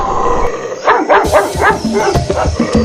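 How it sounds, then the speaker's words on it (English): A dog barks in a run of about eight sharp, loud barks with a whiny edge, fairly close, over a faint windy outdoor backdrop. "somewhere in the distance, a dog began to bark"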